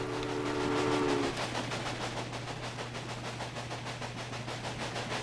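A train in the railway management game Railway Empire rolls along with a steady rhythmic clickety-clack over a constant low engine drone, and a brief whistle-like tone near the start; no talking.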